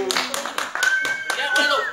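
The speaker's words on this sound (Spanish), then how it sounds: "Por el lado de la comadre de Yuto, aplauso." Rhythmic clapping from a crowd at a live freestyle rap battle event, steady and close, with voices calling out over the beats.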